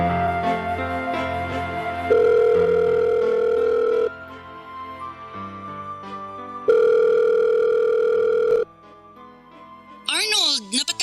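A telephone ringback tone sounds while a call is placed, two long steady rings with a pause between them, over soft background music.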